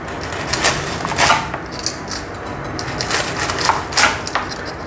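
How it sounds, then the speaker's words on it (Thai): A sharp knife cuts through crisp fried spring rolls with repeated quick crunchy chops on a board, a steady irregular rhythm, close by and with no talking. "เวลาหั่นปอเปี๊ยะเราก็หั่นแบบ"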